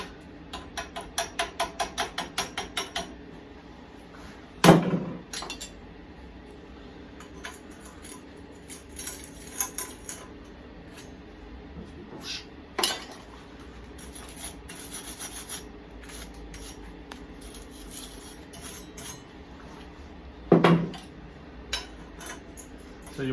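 Slag being chipped off a fresh weld on a metal lamp build: a quick run of sharp ticking taps, then scattered scraping and rasping strokes with a few louder metallic knocks, close and alone.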